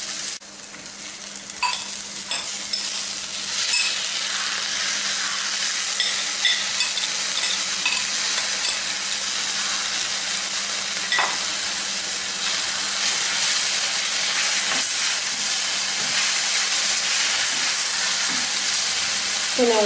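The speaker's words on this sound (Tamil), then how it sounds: "வெங்காயம், வெங்காயம் நல்லா ப்ரௌன் கலர் ஆகட்டும்." Onions fry in a pan for a cabbage, carrot, bean and beetroot vegetable poriyal, giving a steady, loud, close sizzle with occasional spatters and stirring scrapes throughout.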